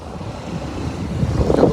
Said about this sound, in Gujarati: હા એટલે હવાનો અવાજ આવે ને